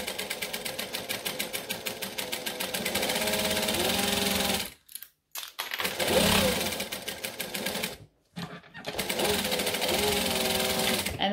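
A sewing machine top-stitches a wallet in rapid, even runs of needle strokes, stopping twice for short pauses before starting again. The machine is loud and close.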